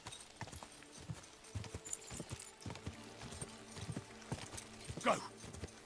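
Horse hooves clip-clop at a steady riding pace across countryside in Kingdom Come: Deliverance II, a rhythmic run of close thuds with faint tack rattle and a brief whinny near the end.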